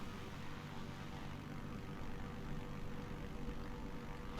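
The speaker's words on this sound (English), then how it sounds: "Beechcraft November 502 Delta Mike taking off runway 4 straight out departure" A Beechcraft Bonanza G36 Turbo propeller plane taking off in Microsoft Flight Simulator, a steady broadband engine and propeller roar that holds constant at moderate loudness.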